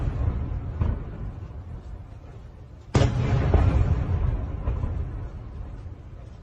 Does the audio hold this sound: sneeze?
no